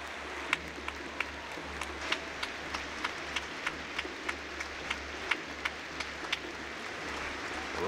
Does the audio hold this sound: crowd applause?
yes